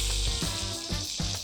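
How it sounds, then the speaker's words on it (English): A thick bone-in ribeye steak sizzles loudly in a pan as it is basted with foaming butter and thyme, with steady frying and repeated spoonful pours of butter, no voices. "So this is called basting, and I'm just pouring it over the steak."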